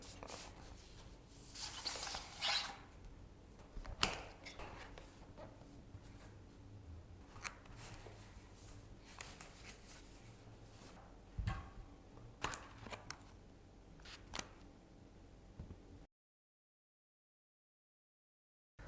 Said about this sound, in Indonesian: langsung saja kita unboxing dulu keyboard ini